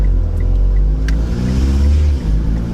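A 700 hp Mitsubishi Lancer Ralliart with a 4B11 engine accelerates hard, its loud, close engine note climbing steadily in pitch with a brief dip near the end.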